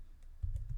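A short run of a few soft key clicks on a computer keyboard while a spreadsheet formula is entered, quiet and close with no talk.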